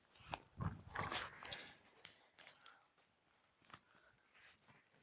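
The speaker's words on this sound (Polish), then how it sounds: "Tu jest drugi piesek." Small dog sounds close by in a quiet home, brief and faint snuffling or shuffling bursts, busiest in the first two seconds and then fading to scattered soft noises.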